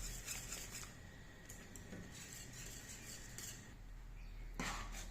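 A spoon scraping and rubbing steadily around a pan of lachcha semai custard, soft continuous stirring with a few light metallic clinks near the end.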